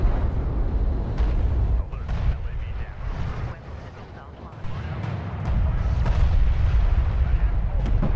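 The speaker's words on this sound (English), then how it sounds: "So now you can watch the fireworks, I think, because I think this carrier is about to die." A carrier ship explodes in a video game, producing a loud, sustained rumbling roar with crackling bursts and booms that continue for around eight seconds.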